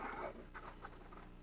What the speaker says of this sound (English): My dogs are being loud in the background.